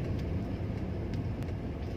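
A 2005 Suzuki Aerio facelift rolls through a U-turn, its engine and road noise a steady low rumble heard from inside the cabin.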